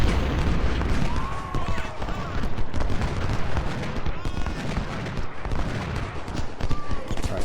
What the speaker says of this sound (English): we're using canister shot now, which is way more effective